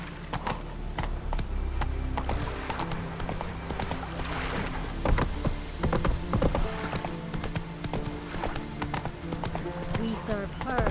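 Roach, a horse in The Witcher 3, gallops with steady, rhythmic hoofbeats, occasional whinnies and game ambience, while voices speak over the running hooves.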